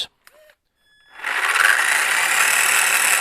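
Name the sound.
Traxxas RC car wheels spinning in second gear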